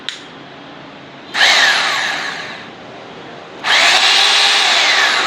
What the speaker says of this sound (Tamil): ட்ரில்லிங்கு